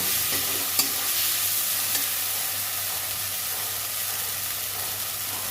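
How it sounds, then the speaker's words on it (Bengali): Pointed gourd pulp frying with garlic, onion, ginger and dried and green chillies, a steady sizzle and hiss filling the pan with a couple of light stirring clicks, close and continuous, no talking. "পটলের শাঁস এটা আমি ভেজে নেব"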